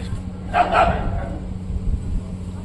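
A dog gives a single short bark, moderately near, over a steady background hum, then quiet follows.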